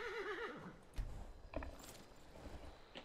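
Horse in the video game Skyrim whinnies with a loud wavering neigh, then its hooves clop in an uneven run of thuds, with no voices.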